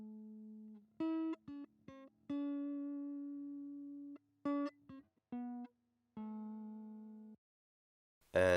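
Dry, clean electric guitar plays a lead line of single sustained notes and short plucked phrases, close and alone, with a brief noisy burst at the very end.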